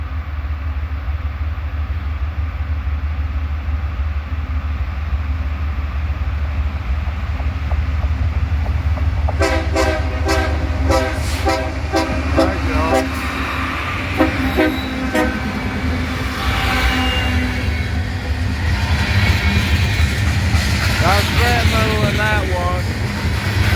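A freight train of covered hopper grain cars on the old Atlantic Coast Line right of way rumbles past on a foggy day, and bright horn-like tones and wheel squeal rise partway through over a steady low roar, with someone talking now and then.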